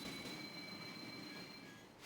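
A train in the Yu-Gi-Oh! Reshef of Destruction video game pulls in at its last stop, a quiet continuous rumble with a thin high wheel squeal running steadily through it, no talking.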